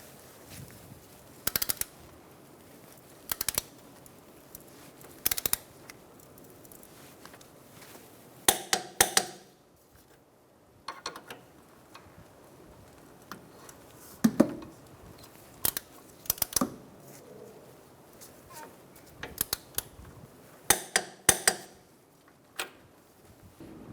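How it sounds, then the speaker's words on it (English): A torque wrench tightens the front strut bolts of a 2014–2019 Kia Soul, giving sharp, close metallic clicks in scattered bursts, some single and some in quick clusters, with quiet gaps between. "And now we're going to torque down all our bolts."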